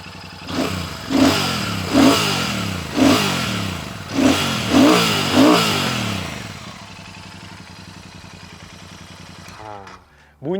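A Royal Enfield Super Meteor 650 parallel-twin motorcycle engine revs sharply about seven times in a rhythmic series, loud and close, then settles into a low idle before a final blip.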